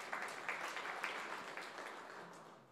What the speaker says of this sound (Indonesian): Yang setuju kita beri tepuk tangan yang meriah untuk kemuliaan.